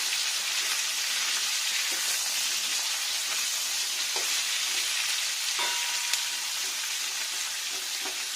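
Vegetables for a vegetarian torkari fry in a pan with a dense, even sizzle and a few light stirring clicks, close and steady throughout without speech.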